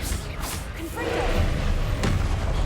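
A Confringo fire spell is cast in the Hogwarts Legacy video game, producing a heavy booming impact followed by a second thud over a dense, loud in-game background.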